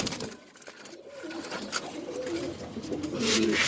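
Pigeons coo at a pigeon farm in Mirpur, with a soft, continuous murmur of overlapping calls at close range and no clear speech.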